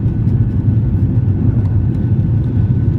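Steady low engine drone and air rush heard inside the cabin of a Norwegian Boeing 737-800 climbing through clouds after takeoff, a constant close rumble with no talking.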